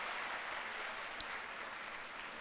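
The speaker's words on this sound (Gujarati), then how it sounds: "એકવાર જોરદાર તાળીઓથી આપણે એમને અભિવાદિત કરીએ" Faint, steady applause from an audience at a lecture on youth and economics, a dense even patter of clapping lasting the whole short stretch without voices over it.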